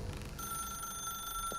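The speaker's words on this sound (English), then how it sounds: "Now pick up the phone." Telephone ringing in The Stanley Parable video game, a steady electronic ring tone heard alone and fairly faint through the whole stretch, with a low background hum.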